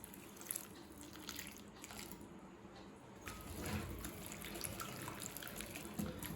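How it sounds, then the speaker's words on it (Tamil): Water trickles and splashes into a bowl of batter for crispy potato wedges, a faint, close running pour with small drips and clinks, quiet and continuous without talk. "இப்போ தேவையான அளவு தண்ணி சேர்த்துக்கலாம்."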